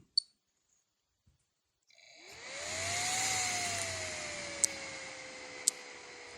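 Cooling fan of a Kulon 820 battery charger spinning up as charging starts under automatic fan speed control: a soft click, then a rising whir and hiss that settles into a steady hum, with a couple of sharp clicks.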